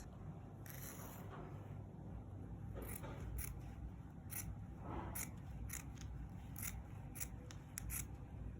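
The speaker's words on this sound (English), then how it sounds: "We're going to cut from this line and also cut the same thing we have here." Scissors cutting fabric for palazzo trousers make a series of crisp snips, scattered at first and then coming faster near the end, each one close and fairly quiet over a soft background hiss.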